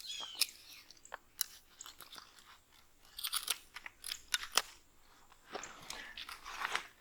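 Scissors cut through greenhouse plastic sheeting at close range, giving quiet, irregular crisp snips and crinkling rustles scattered over several seconds.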